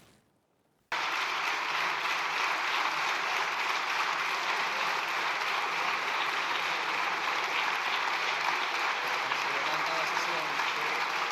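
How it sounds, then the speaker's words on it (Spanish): A large crowd applauds steadily and loudly after a brief quiet moment, a dense continuous patter of clapping that fills the Spanish parliament chamber. "mira cómo aplauden."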